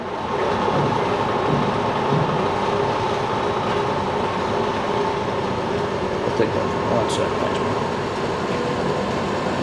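A Bridgeport Series II heavy-duty vertical milling machine with chromed ways runs at 1,000 RPM, giving a steady, loud mechanical hum and whir that stays constant throughout with no pauses.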